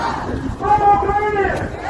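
A crowd of protesters shouts together at a Ukrainian protest, a loud, close mass of raised voices with overlapping chants that swell in the middle and stay steady to the end.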